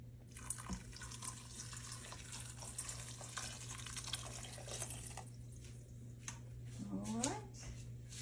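Water runs from a kitchen tap into a pot holding sugar, a quiet continuous trickle and splash under a low steady hum, with a voice speaking near the end.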